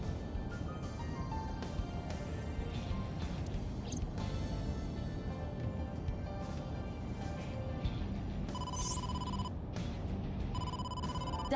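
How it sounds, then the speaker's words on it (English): An in-game phone rings with an incoming call in the video game AI: The Somnium Files, a bright electronic ring tone near the end over a dense, steady music and noise bed. "incoming call from the boss."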